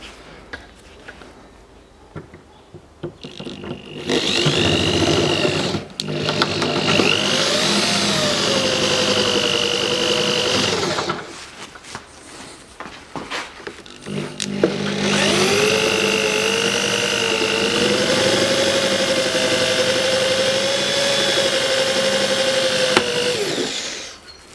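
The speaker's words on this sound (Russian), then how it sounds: "Берем сверло и высверливаем." A power drill bores out rusted bolts on a 2011 Range Rover Evoque 2.2 during a radiator replacement, two long loud whining bursts with pitch wobbling under load, separated by brief quiet handling noises.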